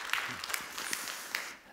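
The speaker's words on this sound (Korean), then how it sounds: "여러분 크게 박수 한번 해주셔요" A church congregation at a Friday evening worship service breaks into a short burst of scattered clapping, moderately distant and filling the room briefly.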